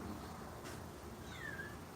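A house cat gives a single short meow near the end, faint and thin against quiet room tone.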